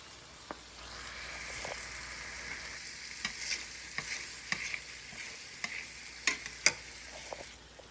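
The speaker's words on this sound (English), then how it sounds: "we're going to place our ground beef patties back in the skillet" Ground beef burger patties sit in a skillet after the heat has been cut off, crackling with a soft, steady sizzle while a utensil taps and scrapes the pan now and then, faint and close with no talking.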